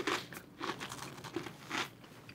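Crunchy chocolate biscotti being bitten, giving several crisp, crackly crunches in close succession, heard close up and fairly quiet with no talking.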